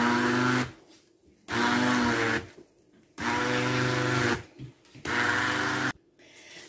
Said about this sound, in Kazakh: Бұны блендердің жардамында майдап аламыз.